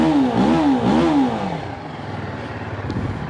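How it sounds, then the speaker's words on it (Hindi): TVS Apache RTR 310 motorcycle engine running up close, with a couple of rising and falling revs early on that settle into a steady, throbbing idle. "साउंड सुनो आप आरटीआर 310 का"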